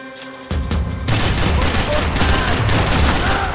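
Heavy gunfire in Max Payne 3 in a slum setting. A few separate shots open the clip, then a loud continuous barrage of rapid fire and booms fills the rest at close range.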